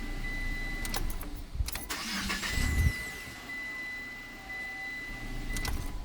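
A 2018 Mitsubishi Eclipse Cross 1.5-litre turbo engine cranks and catches after new spark plugs, revs briefly, then settles into a steady idle, heard up close with no talking.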